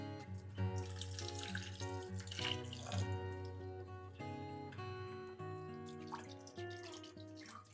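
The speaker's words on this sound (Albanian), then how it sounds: "I hedh ujë të ftofat." Cold water is poured over a turkey in a pan for a traditional Albanian përshesh dish. The pour is continuous and gurgling, with ringing tones, and runs for several seconds.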